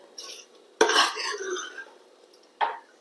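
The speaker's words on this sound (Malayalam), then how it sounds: "അപ്പൊ നമുക്ക് കറി ഒന്ന് തുറന്ന് നോക്കാം" A lid lifts off a pot of parippu and irumban puli curry, one bright metallic clatter followed by a short scrape, then a second smaller clink a moment later, close by.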